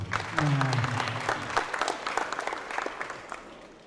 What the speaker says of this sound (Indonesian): Tepuk tangan untuk SMK Bobocari.